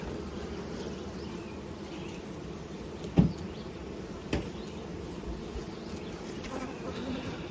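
Honey bees from a hive hum in a steady, close drone throughout, with a couple of brief louder knocks or handling sounds partway through.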